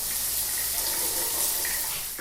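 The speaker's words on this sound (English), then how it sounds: "So I'm going to go and rinse this off" A steady, close shower spray of water runs continuously while conditioner is rinsed out of hair, with a broad hiss and no talking.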